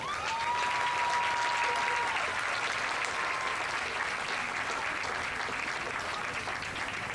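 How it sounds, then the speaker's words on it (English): A crowd at a 2020 high school homecoming ceremony applauds the queen candidates in a long, even wash of clapping, with a thin steady tone sounding briefly near the start. "let's give a large round of applause for all 5 of our 2020 Homecoming Queen candidates."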